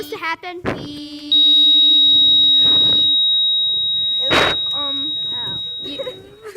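A long continuous electronic beep sounds from a watch, loud and sustained for a few seconds, while people talk and shout excitedly over and around it.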